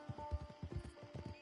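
Hooves of a horse in a video game clip-clop in a steady walking rhythm, soft and close, with a faint whinny-like tone alongside.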